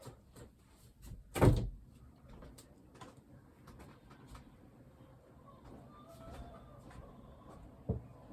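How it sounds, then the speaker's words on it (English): A door opens and shuts indoors in a quiet room beside a racing video game setup: one sharp thump near the start, then faint shuffling and a soft click a few seconds later, with no voices. "sorry if you hear any sounds when I open the door"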